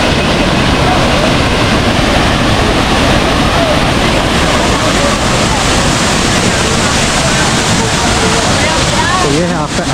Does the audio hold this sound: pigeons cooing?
no